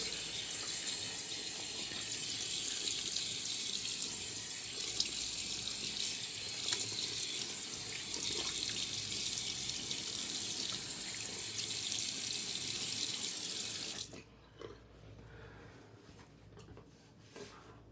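Steady tap water runs loudly into a sink during a face rinse after shaving, continuous for about fourteen seconds before cutting off, leaving a quieter room with small handling noises.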